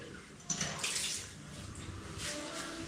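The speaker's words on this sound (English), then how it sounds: "That is cold water." Cold water runs from a bathtub tap in a steady, soft hiss and splash, heard faintly and close with slight swells in flow and no talk over it.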